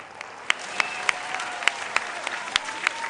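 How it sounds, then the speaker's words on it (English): Moderate applause from a school quiz competition audience, with sharp individual claps standing out in an uneven rhythm over a steady wash of hands, fairly close. "A round of applause, please."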